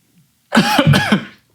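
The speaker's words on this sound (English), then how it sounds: "I'm going to cough for a second" One close, rough cough-like burst with a throaty, clearing quality, lasting under a second after brief quiet.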